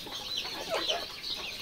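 Chickens and chicks cluck and peep at a poultry chick farm in Muktagacha, Mymensingh, that sells desi, layer, Fayoumi and broiler chicks. The chirping is continuous, busy and overlapping, close by with no talk.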